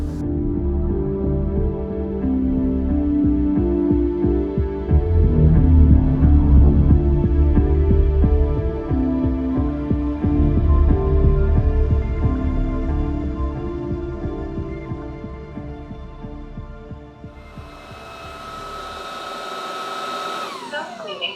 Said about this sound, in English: Self-cleaning completed.